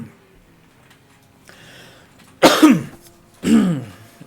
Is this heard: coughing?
yes